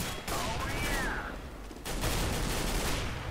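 Sustained gunfire in CS:GO, dense close shots running nearly the whole stretch with a short lull midway, loud and continuous with no talk over it.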